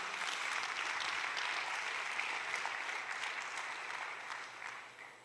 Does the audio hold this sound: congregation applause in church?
yes